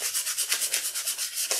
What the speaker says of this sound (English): I'm just sanding the edges because I don't want to get any splinters